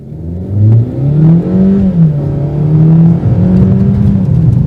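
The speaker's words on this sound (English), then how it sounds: "Driving the Suzuki Swift Sport." A 2019 Suzuki Swift Sport accelerates hard from inside the cabin, its engine note climbing through the revs, dipping at gear changes, then rising again, loud and close with no talk.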